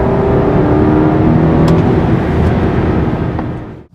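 A BMW 550i Sport sedan's V8 engine pulls hard in first gear in sport mode, a loud, deep, continuous roar from inside the car that holds steady before dropping away abruptly at the end.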